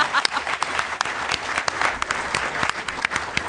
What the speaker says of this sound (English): now clap for the teacher, guys.